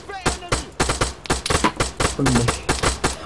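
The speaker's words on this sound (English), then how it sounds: "We're taking fire!" Rapid bursts of gunfire from an Arma 3 firefight, loud, repeated sharp cracks in close succession with voices shouting over them.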